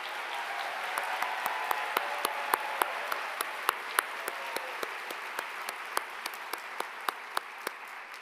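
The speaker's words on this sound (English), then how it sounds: "let's give a round of applause to our School of Music pianist" Steady applause from a convocation audience at a university College of Fine Arts spring ceremony, honoring a School of Music pianist; dense clapping runs throughout with a few sharper individual claps standing out, no talking.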